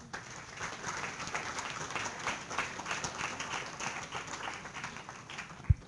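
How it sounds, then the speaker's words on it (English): Applause from a lecture audience in an engineering class, quiet and somewhat distant, a steady patter of clapping with one sharp thump near the end. "So everybody give Zaynab a round of applause."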